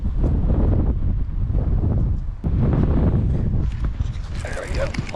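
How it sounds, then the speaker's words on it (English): Strong gusting wind buffets the microphone outdoors on a winter fishing trip, a loud, continuous low roar with a brief dip midway and some rustling near the end. "It's getting really windy out here."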